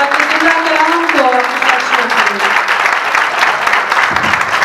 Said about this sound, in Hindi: तो आपकी जोरदार तालियों में पास्टर बेंजामिन स्टीफन हमारे सामने आएंगे